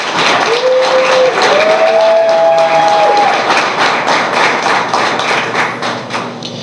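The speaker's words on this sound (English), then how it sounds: "can you all please give these 2 young scholars a round of applause?" Applause from an audience at a school sports signing ceremony fills the room with steady, dense clapping, while a brief high whine rises over the first few seconds and the clapping thins toward the end.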